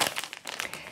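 Small plastic bag crinkling and rustling as it is opened, a dense, brief burst of close crackles lasting about a second.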